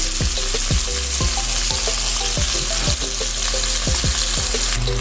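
Chicken wings deep-frying in hot oil, a steady loud sizzle and bubbling that runs unbroken throughout, with repeated metallic utensil taps and stirring knocks over the top.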